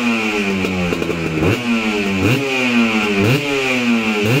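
A new motorcycle engine revs close by, a clattering mid-pitched idle punctuated by several sharp throttle blips that climb and drop in a steady rhythm, with no voices.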